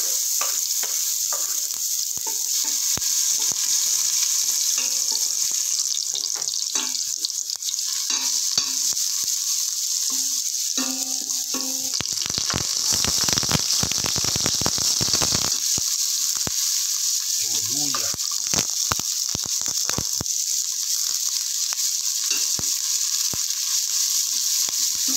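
Garlic fries in hot cooking oil for chicken and pork pares, a dense, continuous sizzle and crackle that runs loud and steady throughout, with occasional stirring scrapes.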